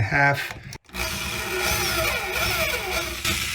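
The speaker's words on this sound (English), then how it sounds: "drill it in the angle, 2 of them, and then you can put a screw in." A power drill whirs steadily as it drives a screw into wood, likely a long three-inch screw, during a bathroom tub-to-shower conversion; a brief burst of clatter comes first, then a continuous close motor drone.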